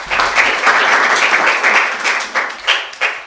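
A classroom of students claps together in a short, lively burst that lasts around three seconds, with a few separate claps standing out as it trails off.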